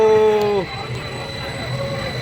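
Metro train in Bhubaneswar riding along with a steady rumble and rhythmic wheel noise, a loud tonal squeal or horn at the start that cuts off, then continuous rolling sound.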